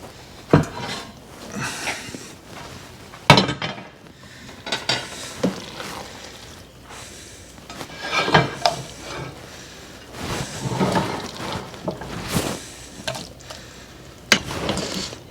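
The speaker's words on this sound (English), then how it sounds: "we want to transfer it into a baking dish" Mac and cheese is scraped and knocked from a pot into a baking dish, with intermittent clattering, scraping and sharp metallic taps spread unevenly over the clip.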